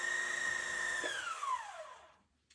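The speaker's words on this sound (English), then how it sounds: "wind your bobbin" Sewing machine motor whirring steadily at high speed while winding a bobbin, then spinning down with a falling pitch as it slows to a stop, with a faint click at the end.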